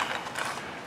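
GearWrench ratchet wrench clicking steadily and close, a dense run of fine mechanical pawl clicks lasting under a second with no voices.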